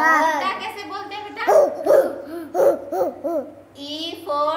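A voice imitates a dog barking, giving a quick series of about six short, close woofs in a row, framed by babbling and spoken words before and after.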